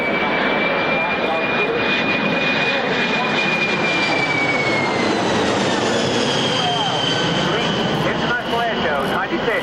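Boeing 767 jet engines power up at the 1996 Army Air Corps Middle Wallop airshow, a loud, broad roar with a rising whine, under a public-address commentator.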